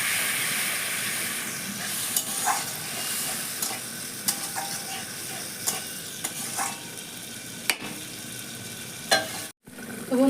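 Spice paste with turmeric and water fries in a pan for a Bengali jackfruit and prawn curry, a steady close sizzle broken by repeated scraping stirs of a spatula at irregular intervals.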